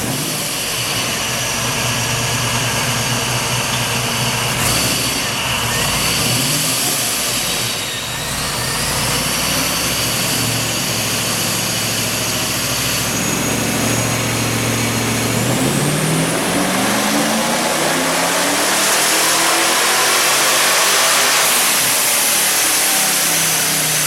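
A Vortech-supercharged Holden VS Maloo engine on a power run roars loudly and close up. The supercharger whine climbs steadily in pitch through repeated rev rises and gear changes, building to a high, screaming peak near the end, with no talking.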